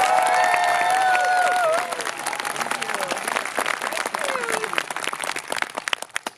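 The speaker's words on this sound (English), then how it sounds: "let's give a huge round of applause to the graduating class of 2023." A crowd at a 2023 high school graduation applauds and cheers for the graduating class, with sharp claps and whoops at first that thin out into scattered clapping, and voices mixed in.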